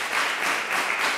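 Studio audience applause during a Tunisian talk show, a short steady wash of many hands clapping together, fairly loud with no break in the sound.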